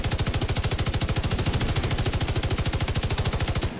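Rapid, evenly spaced bursts from a light machine gun in The Division 2, firing continuously and loud at close range, a steady rattling stream of shots with no talk over it.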